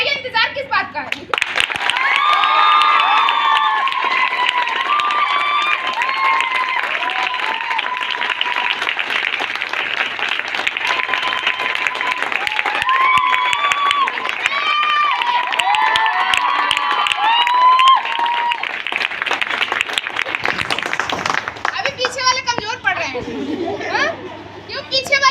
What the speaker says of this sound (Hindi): तो एक बार जोरदार आप लोग तालियां बजाइए, हल्ला करिए